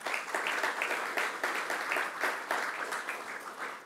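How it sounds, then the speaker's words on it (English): A press conference and ribbon cutting crowd claps in a brisk, uneven burst, many hands together in rippling waves that stay fairly loud, close and unbroken throughout. "You might want to hold your applause"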